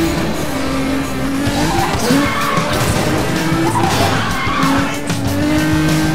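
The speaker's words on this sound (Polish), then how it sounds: "Tu będzie drift." Car drifting in the racing game Need for Speed Most Wanted, with a loud, continuous engine roar and long sustained tire squeals that rise and bend through the slide, steady and close throughout.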